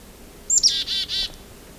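A single short chickadee call: a high opening note followed by a few rapid buzzy notes, clear against a quiet background.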